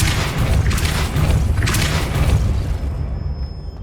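Depulso force spell cast in the Hogwarts Legacy video game, a loud, dense booming blast with repeated heavy thumps over about four seconds, tailing off at the end, with no talking.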